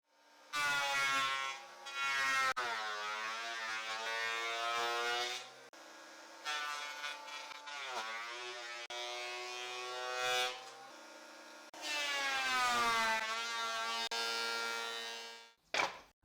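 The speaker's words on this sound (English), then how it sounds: "The boards will be cleaned and their thickness standardized using the thickness planer." A thickness planer whines loudly as it planes pine boards to an even thickness, running in several long, steady passes with short drops in pitch between them.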